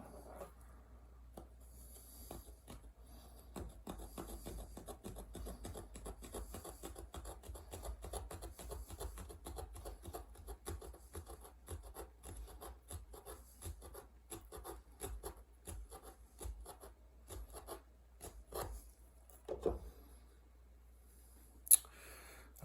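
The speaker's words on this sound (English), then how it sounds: "We're pretty much cutting through leather, and this is not just rawhide." A primitive hand-made knife saws through tough tanned leather, giving a steady, quiet rasping and scraping stroke after stroke, with a faint sharp click near the end.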